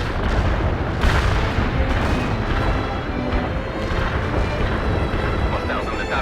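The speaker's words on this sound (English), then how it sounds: "Heavy artillery strike fire." Heavy artillery strike in the video game World in Conflict: a dense, loud rumble of overlapping blasts and booms, continuous and rolling without pause.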